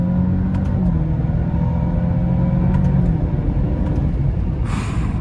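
Alfa Romeo Stelvio SUV engine pulling steadily from inside the cabin, with a continuous rumbling drone whose pitch steps down once or twice as gears change via paddle shifters, and a brief hiss near the end.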